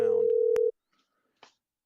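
A telephone line tone on a live radio call-in: a steady loud tone for about three quarters of a second, then a click and silence with a faint brief blip.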